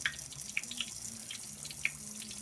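Freshly fried Reuben eggrolls draining after frying, oil dripping off them: a few separate small drips and light patters over a low background hum, close and fairly quiet.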